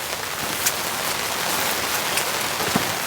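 Heavy rain pours steadily at a camp site, a dense even hiss of drops striking surfaces with occasional louder splats, close and constant, no talk.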